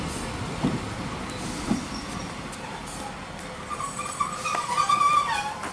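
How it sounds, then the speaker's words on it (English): A train rumbles in at Llangunllo, a Welsh request-stop station, with clattering wheels and rising metallic squeals toward the end, moderately loud with no talking. "as this train comes in"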